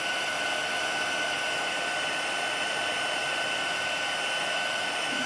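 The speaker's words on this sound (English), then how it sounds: "moving the heat tool along, as soon as it starts to change the powder" Embossing heat tool blowing hot air to melt powder on a handmade card, a steady, even fan-like whoosh with a constant hum, close and unbroken throughout.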